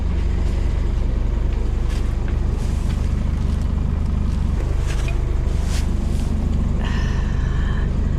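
Steady low rumble of a bus driving along, heard from a seat inside, with constant engine and road noise and a few faint rattles and clicks over it.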